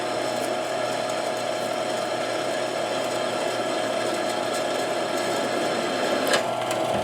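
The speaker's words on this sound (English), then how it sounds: "Drilling a little pilot hole first." A drill bores a pilot hole in a steel bumper wing for a winch install, giving a loud, continuous grinding whir with a steady tone throughout and a brief extra clatter near the end.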